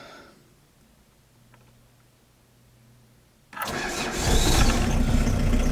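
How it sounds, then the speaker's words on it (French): An old, cheap car's engine starts instantly after preheating, catching abruptly from a quiet idle-free background into a loud, steady running roar that builds slightly. "C'est une voiture qui démarre au quart de tour."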